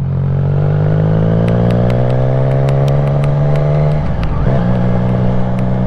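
A motorcycle engine, started after winter storage, runs loud and close in a steady idle hum with light mechanical ticking, its pitch dipping and wavering briefly near the end before settling.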